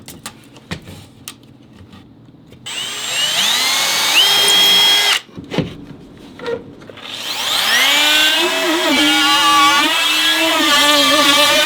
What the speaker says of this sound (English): I'll drill 4 holes for the wires on the corners